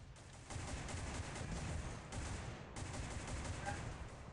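Continuous rapid automatic gunfire from an online first-person shooter on Android, War After, crackling in dense bursts with a brief gap midway and steady loudness throughout.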